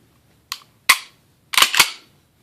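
A gun trigger breaking and resetting: sharp, close mechanical clicks, a single snap, a louder one, then a quick cluster of three, each short and crisp against silence.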